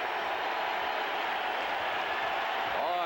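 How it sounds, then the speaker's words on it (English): Stadium crowd roaring continuously at a Kingdome football game between the Browns and Seahawks in 1985, a broad sustained wash of cheering that swells slightly at the end with a brief voice emerging. "Boy, this crowd has come alive."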